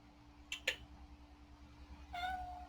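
A pet cat gives two short, quick meows, then after a pause lets out a longer, drawn-out meow, soft and fairly close against a quiet indoor background.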